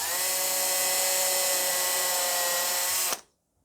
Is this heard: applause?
no